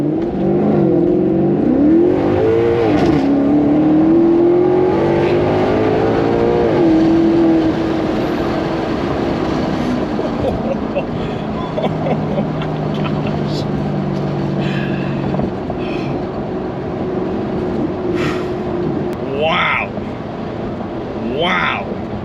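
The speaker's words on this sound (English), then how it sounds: "We'll do one with the windows down so we can hear the glorious sounds of the GranTurismo." Maserati GranTurismo Sport engine heard from inside the car with the windows down, a steady loud drone and rising revs under wind and road noise, with a voice talking over it.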